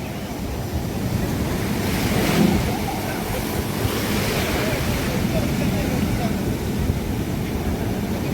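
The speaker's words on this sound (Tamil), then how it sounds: "என்ன இப்படி கடல் அடிக்குது, போட்டெல்லாம் கவுள்ற மாதிரி கிடக்கு." Rough sea waves crash near a fishing boat, a steady, loud broadband roar of surf with wind buffeting the microphone that swells briefly before settling into a continuous wash.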